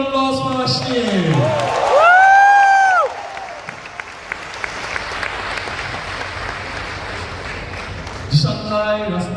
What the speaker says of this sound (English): Can you have a big round of applause for Ashneer?